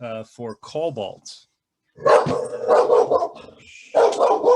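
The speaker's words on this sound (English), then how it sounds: "That's the dog that I used to protect my gold." A dog barks in short bursts near the start, followed by a stretch of loud, overlapping talk from several people.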